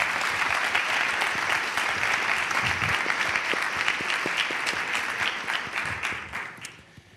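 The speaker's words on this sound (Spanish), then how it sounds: "Por favor, un fuerte aplauso para Bernal." Sustained applause from a live comedy audience, steady and dense, tapering off toward the end.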